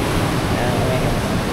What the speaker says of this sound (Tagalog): Pero ngayon tingnan nyo, medyo malakas yung agos ng tubig.